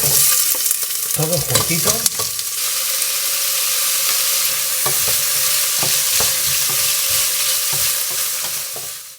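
Oil sizzles loudly and steadily in a pan while ingredients for chili con carne cook, with brief stirring scrapes at the start and a few soft clicks, and a voice speaks briefly.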